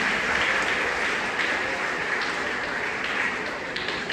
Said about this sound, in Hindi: एक बार तालियां हो जाए इनके लिए भी।